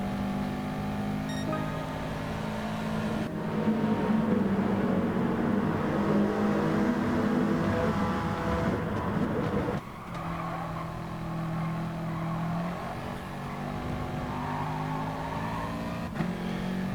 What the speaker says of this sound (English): I fall into his slipstream as we come around the hairpin onto the main straight, and Kenneth goes a bit wide